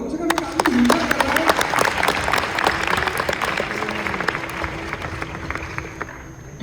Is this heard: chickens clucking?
no